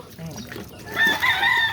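A chicken clucks and squawks nearby against a busy outdoor background, its calls rising louder toward the end.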